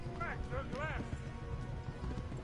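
Horse hooves clip-clop faintly in Kingdom Come: Deliverance, a quiet steady trot under low game ambience, with a brief whinny-like call near the start.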